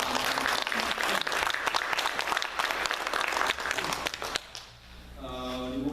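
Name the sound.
congregation applauding the pastor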